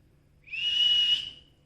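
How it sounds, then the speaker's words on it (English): A single person whistles one clear, steady note lasting under a second, close and fairly loud, with quiet room hum beneath and no talking. "Do you know how to whistle?"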